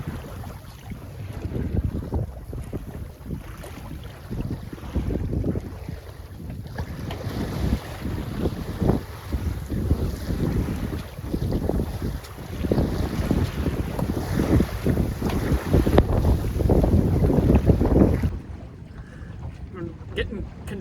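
Steady wind gusting over a 24 foot San Juan sailboat out on open water, a continuous rough rumble of wind buffeting the microphone, with water sloshing beneath, loud throughout before dropping off near the end.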